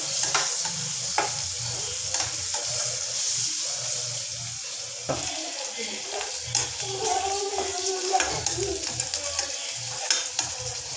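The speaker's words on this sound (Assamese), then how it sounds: "আলুখিনি অকণমান ৰঙচুৱা হোৱালৈকে ফ্ৰাই কৰি ল'ম" Potatoes frying in a pan for a soybean and banana-flower curry, with a steady close sizzle and occasional stirring scrapes and clatters, no voices.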